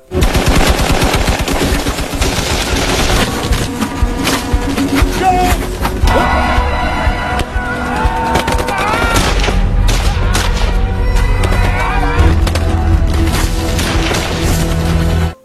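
Heavy gunfire from a Vietnam War film battle scene, with sustained machine-gun bursts and rifle shots mixed with booms and crashes, loud and dense throughout, layered over dramatic score.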